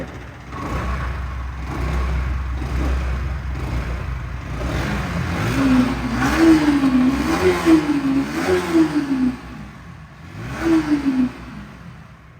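A nearly new, never-serviced Yamaha R15 V4 motorcycle engine idles low, then revs repeatedly in short rising bursts, loud and close, with a final blip near the end.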